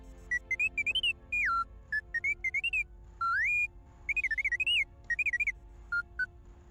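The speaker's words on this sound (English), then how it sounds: "Another beep out of you, and you're scrap." Droid beeping in Star Wars KOTOR 2, a run of bright electronic chirps and warbling beeps in quick bursts with short pauses between them, alone over a low background hum.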